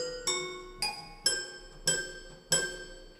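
A toy piano played note by note, five bright bell-like tones struck at an even, unhurried pace, each ringing out and fading before the next, heard close and alone.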